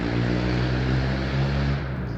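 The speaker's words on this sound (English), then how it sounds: "it's a motorcycle" Motorcycle passing by, a steady low engine drone heard at a moderate distance that fades out near the end, with no one talking over it.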